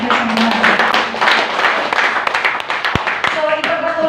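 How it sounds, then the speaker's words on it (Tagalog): A church congregation gives a burst of loud applause for God during a preaching service, dense clapping spread across the room with voices and a faint tonal background mixed in. "isa po malakas na palakpak sa ating Diyos"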